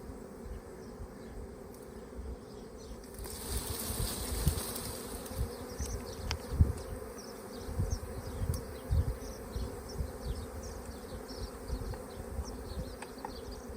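A honeybee swarm buzzes around a hive outdoors, a continuous soft drone of many bees with individual insects flying past nearby, plus faint rustling and handling noise, with no talking.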